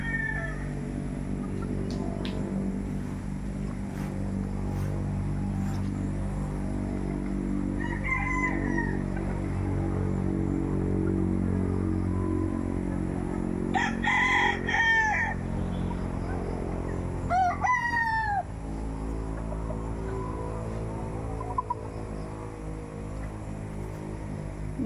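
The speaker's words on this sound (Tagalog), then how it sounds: "Ayan mga ugis puting manok." White chickens and roosters on a farm crow repeatedly, several distinct cock-a-doodle-doo calls at mid distance over a steady low hum and scattered clucking.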